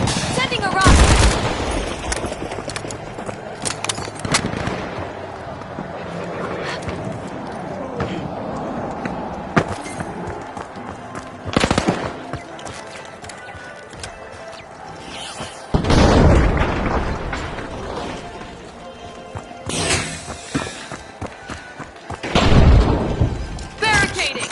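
A rocket launch and its blast in a shooter game, where heavy booms and bursts of gunfire rise and fall over a steady battle din across the span, several loud impacts standing out above continuous shooting.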